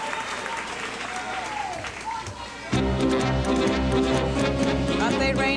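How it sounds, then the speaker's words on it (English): An audience applauds at a professional Latin dance championship. Steady clapping swells louder partway through, with music playing underneath. "Let's have a wonderful round of applause this for them."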